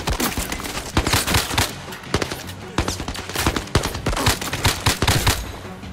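Automatic gunfire from the VR shooter Zero Caliber, with rapid bursts of close, loud shots and rattling volleys repeating throughout, dense and sustained.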